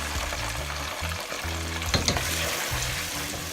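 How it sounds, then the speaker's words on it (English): Onions dropped into hot melted fat for Nigerian party jollof rice give a steady, dense sizzle, close and loud throughout, with a faint low hum beneath. "With that melting off, I'll add my onions."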